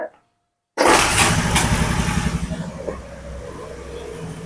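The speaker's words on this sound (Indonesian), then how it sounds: "Nih, motor saya nyalakan ya." A Honda Vario 110 FI scooter engine cranks and catches after a brief silence, then settles into a steady close idle that fades slightly; a faint voice is heard at the start.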